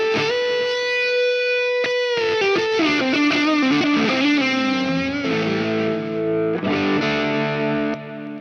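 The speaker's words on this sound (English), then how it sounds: "invert the order of effects and put your reverb into the front of the amp and your delay afterwards" Electric guitar run with reverb placed before the amp and delay after it, a loud sustained distorted chord passage with washy repeats and smeared tails, rich in overtones, alone without talk.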